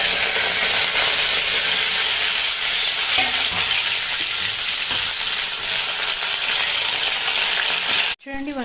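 A tempering of chana dal, cumin and curry leaves fries in hot oil for a stuffed brinjal curry, giving a loud, continuous close sizzle that cuts off abruptly near the end.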